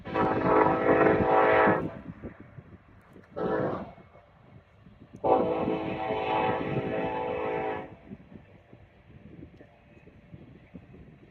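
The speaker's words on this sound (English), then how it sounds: "I've got to show you this train. Look how long it is." A long freight train's horn blasts in long loud blares, two extended blows separated by a short toot, with a low rumble of the passing train, led by two engines, continuing underneath, in Colorado.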